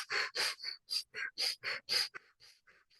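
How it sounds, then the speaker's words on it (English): Rapid fire breathing during a guided energy-healing session: a quick series of about nine sharp, loud, breathy inhale-exhale bursts in steady rhythm, then softer, shorter breaths trailing off at the end, with no talk. "Rapid inhale and exhale."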